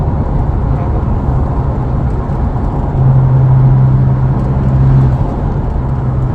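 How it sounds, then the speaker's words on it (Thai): Remapped Ford Ranger XL 2.2 manual pickup pulling from sixth gear, heard from inside the cab as a loud, steady droning engine and road roar that swells for a couple of seconds before easing back. "ลองเติมจากเกียร์หกเลย"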